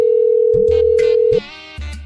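A phone call rings out unanswered in a comedy sketch, a steady electronic ring tone holding for over a second, then breaking off into short repeated tonal bursts, close and loud.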